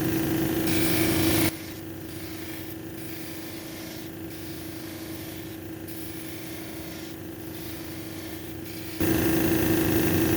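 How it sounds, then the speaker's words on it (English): A 280 grit lapidary wheel grinds a red jasper cabochon with a steady, fairly loud rasping whir. The stone is pressed on and lifted off in repeated gritty strokes, with a louder, brighter whine from the wheel at the start and end. "I'm gonna try the 280 wheel again."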